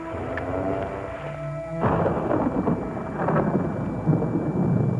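Thunder rumbles and cracks through steady rain in an outdoor storm scene, with a sharp strike near the middle followed by rolling, sustained rain noise and no talking.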